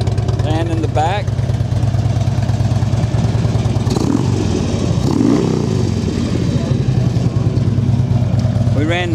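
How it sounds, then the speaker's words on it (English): Harley-Davidson Road King Classic FLHRC with Rinehart exhaust, its V-twin engine idling with a steady deep throb and a brief rev midway, while someone talks over the engine noise. "Bike sounds good with those Reinhardts."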